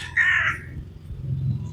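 A single crow caws loudly and close, a harsh rasping call early on, then a low rumble of outdoor background noise on a London outing.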